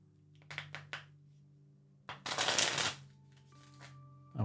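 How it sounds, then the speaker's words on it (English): A deck of tarot cards is shuffled by hand, with a few quick taps of the cards followed by one longer riffling burst and a soft settle, close and otherwise quiet. "I'm going to do the shuffle"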